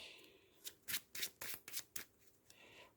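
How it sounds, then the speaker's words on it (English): A deck of cards being shuffled up close, a series of quick riffling bursts and soft flutters over about three seconds with no talking. "Shuffle the deck."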